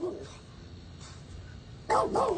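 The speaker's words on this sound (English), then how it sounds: "It was the neighbor's dog." A neighbor's dog barks outdoors in a short burst near the end, loud and fairly close, after a quieter stretch with a faint earlier yelp; no talk over it.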